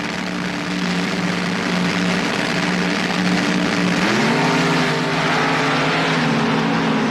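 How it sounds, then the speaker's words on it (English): Top Fuel dragsters with aluminum racing engines roar in a loud, sustained blast at the 1977 NHRA Gatornationals, the engine pitch climbing partway through as the cars accelerate down the strip. "All cars are being powered now in Top Fuel at this event by an aluminum racing engine"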